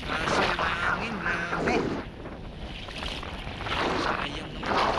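Strong wind buffets the microphone at a shore casting spot in the Philippines, a loud continuous roar with gusts that ease briefly midway before rising again.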